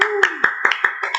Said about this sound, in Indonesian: Adik-adik kasih tepuk tangan aja ya, yang panjang ya.